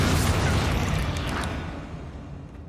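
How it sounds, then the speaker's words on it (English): A Bombarda blasting spell explodes in Hogwarts Legacy with a loud, dense boom that rumbles and slowly fades out over a couple of seconds. "Yep. Bombarda. There we go."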